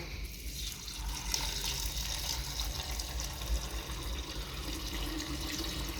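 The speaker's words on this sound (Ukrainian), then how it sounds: "Готовий наш сироп, і ми його заливаємо у зерно по черзі." Sugar syrup pours in a steady liquid stream into wheat grain, a soft continuous splashing and gurgling at moderate distance with no talk.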